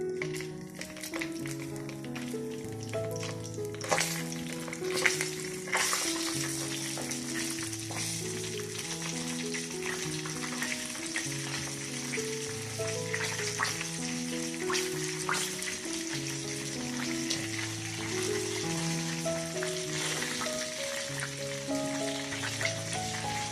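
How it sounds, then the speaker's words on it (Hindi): Potato kebabs (aloo kabab) frying in hot oil give off a continuous crackling sizzle that runs the whole time, partly masked by steady background music. "ऑयल गर्म है, अब मैं इसमें कबाब डाल दूँ।"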